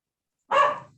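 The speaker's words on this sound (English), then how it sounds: "heard a dog barking." A single short dog bark rings out alone after silence, moderately loud and slightly distant in tone, fading quickly.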